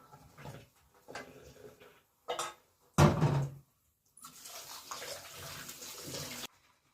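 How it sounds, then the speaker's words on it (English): Cooked rice rinsed under cold running tap water in a home kitchen: scattered splashes and clunks, then a steady rush of water for about two seconds before it stops. No one speaks. "My rice is done cooking, so I'm gonna rinse it with cold water."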